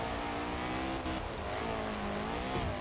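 A small, underpowered hot hatch driven in Forza Horizon 4, its engine droning steadily and loudly with rising and falling revs throughout, alone with no talking.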